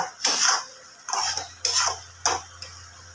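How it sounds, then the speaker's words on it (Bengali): Metal utensil scraping and tapping in a pan as potatoes are mixed with spice paste, four or five separate clinking strokes in a quiet kitchen, no talking. "আলু দুটোকে ভালো করে মশলার সাথে মিশিয়ে নিলাম মানে মশলাটাকে আলুর সাথে মিশিয়ে নেব"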